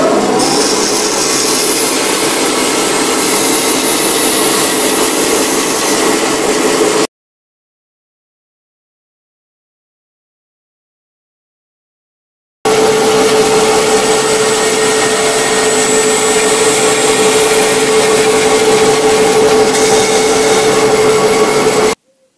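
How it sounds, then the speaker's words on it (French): Power tool cutting a wooden mold for a prototype crankcase, a loud steady whining buzz that runs for several seconds, drops out to silence, then resumes at the same level with a sustained tone. "Maintenant découpe du moule en bois."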